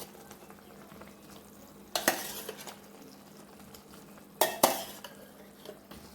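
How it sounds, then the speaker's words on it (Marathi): Boiled drumsticks being stirred into fried masala in a pan: a soft background sizzle punctuated by two loud scraping, clattering bursts of spoon against metal. "आता ह्या शेंगा मी यामध्ये घालत आहे"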